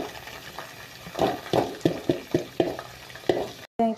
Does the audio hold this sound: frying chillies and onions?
yes